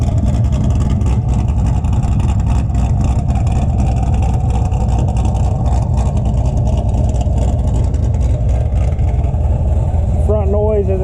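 Loud, steady engine rumble from a BTR Stage 3 cammed C6 Corvette V8, a dense low drone filling the whole stretch with a brief rise like a rev near the end, and a voice briefly audible underneath.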